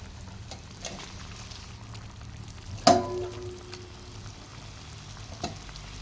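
Pipli greens fry with boiled potato in a pan, a soft steady sizzle running throughout with one sharp metallic clink of a utensil partway through and a fainter tap near the end.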